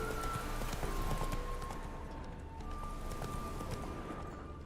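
The horse Roach gallops in The Witcher 3 with rapid rhythmic hoofbeats clip-clopping under quiet game ambience and faint musical tones.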